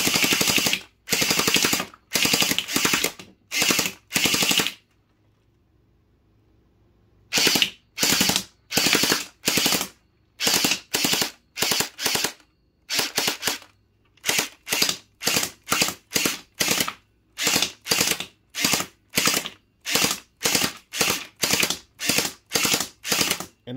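An HT Mini M4 Raptor gel blaster fires loud, rapid bursts of shots close by. A short silent pause breaks up the strings of fire, which then resume and continue to the end.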